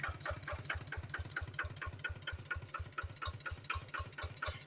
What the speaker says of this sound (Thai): ลองติดเครื่องลองขับดูได้ค่ะ